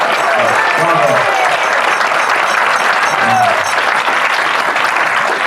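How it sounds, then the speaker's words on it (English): A crowd at the Wine Business Institute's 25th anniversary event gives a sustained round of applause for honorees, thick and even clapping throughout with faint voices mixed in. "Let's give them a great round of applause."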